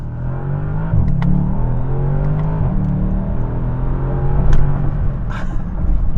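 A 2021 Bentley Continental GT Mulliner grand tourer accelerates hard, its engine holding a loud, steady roar that climbs in pitch through the pull, with brief shifts breaking the drone.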